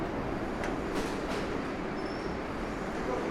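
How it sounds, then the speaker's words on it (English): A downtown 6 subway train in a New York City station, a loud, steady rumble of rolling cars and wheels with a faint squeal, heard up close with no talk. "There's a downtown 6 train."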